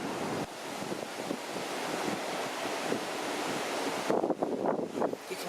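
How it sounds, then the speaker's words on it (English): Sea water churning and foaming alongside a cruise ship at sea, heard from up on deck as a steady broadband rush with wind buffeting the microphone, swelling slightly louder near the end. "You can hear the water foaming."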